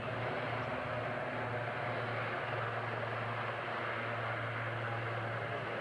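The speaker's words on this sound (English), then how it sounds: "Aircraft now coming into a hover." Kaman Seasprite helicopter of the Royal New Zealand Navy hovering at an outdoor air show, a steady loud rotor and engine roar with a constant low hum throughout, no talk.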